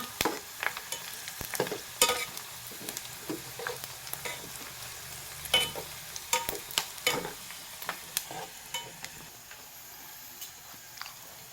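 Pork chicharon being stirred as it fries, with a crackling sizzle under a string of sharp scraping and clacking strokes at an irregular pace, up close and fairly loud.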